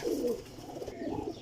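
Two caught pigeons coo softly and close by in a short, low, throaty call, faint and with no voices around.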